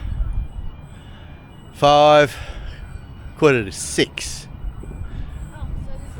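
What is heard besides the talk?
Newcastle-bound train arriving at the station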